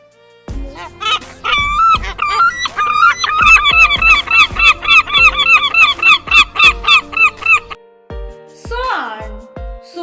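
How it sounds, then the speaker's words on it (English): Seagull calls, a loud near series of rapid repeated honking cries in a steady rhythm, with a few isolated calls before and a final squawk after a short pause. "Seagull. Seagull sound name"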